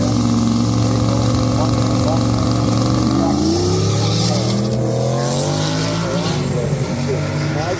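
A drag race car at the Pacific Waterland 2024 race roars down the strip, its engine revving loudly and climbing through the gears. Crowd noise and commentary carry on over the top.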